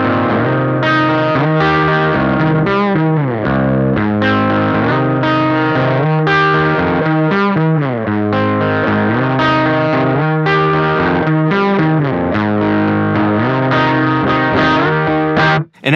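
An electric guitar run through an SD1-style overdrive pedal with the gain turned down plays a continuous chordal passage, fairly clean with mild grit and a chorus-like shimmer, loud and unbroken.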